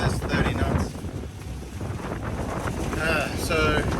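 A sailing boat's two engines drone at full revs into a 30-knot wind under loud, blustery wind noise, with some muffled voice-like sounds in the mix, the roar swelling and easing over a few seconds.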